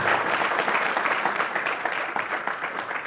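Audience applause at an event in Dhanbad, Jharkhand, a dense, steady wash of clapping from many hands that holds strong throughout.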